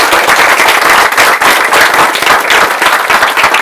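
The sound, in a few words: audience clapping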